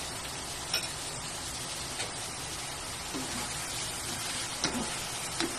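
Chop suey vegetables sizzling in a pan, a steady soft hiss with occasional faint clinks and scrapes of stirring, fairly quiet and continuous.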